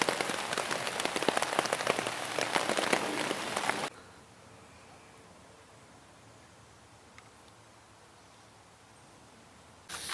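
Rain pours steadily at a wild camp in England, drumming densely on a nearby surface, then cuts abruptly to a quiet hush before the downpour returns at the end.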